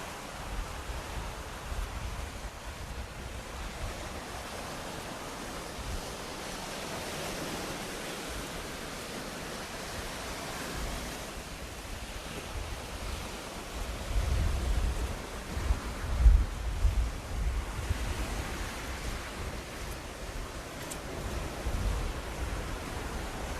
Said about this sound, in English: I will keep quiet for a second, let you enjoy the sea, the sounds of the sea